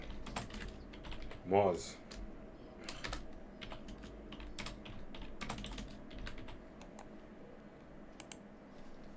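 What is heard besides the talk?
typing on a computer keyboard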